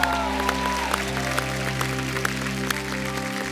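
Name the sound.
studio audience applause welcoming a singer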